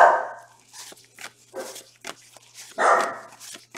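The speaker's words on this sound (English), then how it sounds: "Sorry about the dog." A dog barks several times in the background during a baseball card case break, the barks coming in separate bursts over roughly four seconds, fairly close and moderately loud, with no talk over them.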